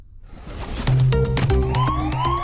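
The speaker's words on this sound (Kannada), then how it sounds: "ಸೈರನ್ ನೋಡ್ಕೊಳ್ತಾ ಇದೆ. ಪೊಲೀಸ್ ಬರ್ತಾ ಇರ್ಬೋದು." A police siren in a cartoon chase scene, a rising wail that settles into a loud, steady, repeating electronic tone, heard close and alone.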